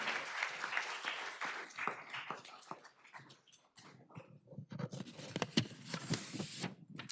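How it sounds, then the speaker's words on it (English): Applause from the audience at a school board meeting: a fairly faint, dense patter of many hands that thins out briefly and then picks up again, with some scattered louder claps. "One more round of applause for Sarah."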